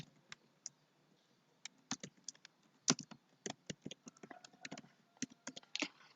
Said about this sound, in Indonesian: Kita ketikkan nama sekolah